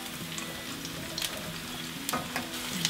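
Multicolored carrots sizzle and fry in a hot pan, with a steady crackle and a few sharper pops and stirring scrapes, close and alone.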